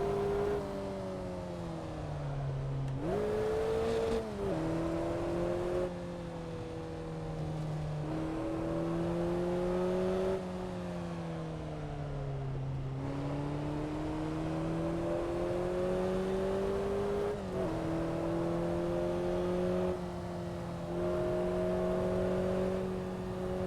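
A simulated car engine in the Assetto Corsa racing game, driven along the Pacific Coast Highway, revs and drones steadily, with its pitch rising and dropping through repeated gear changes over a long stretch and no one speaking.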